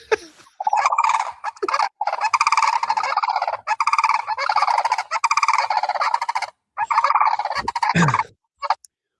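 Loud birds on a city sidewalk give harsh, rapid gobbling calls in repeated bursts, close and prominent, with brief pauses between volleys and no speech.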